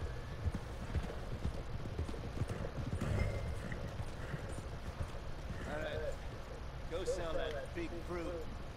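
Horse hooves clip-clop steadily through Red Dead Redemption 2, ringing near and clear over a low rumbling bed as voices talk, with a brief whinny partway through.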